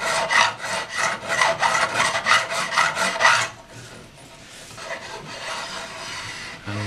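A file rasps across metal fret ends on a vintage Sakai/Audition electric guitar, trimming them flush with the binding: about a dozen gritty, rhythmic strokes, then quieter, lighter scraping with little cutting.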